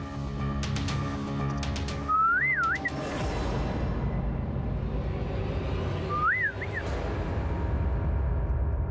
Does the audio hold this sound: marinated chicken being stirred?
no